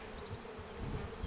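Honeybees buzz over open hive frames in a calm colony, a steady close drone with a faint higher whine running through it, with no voices.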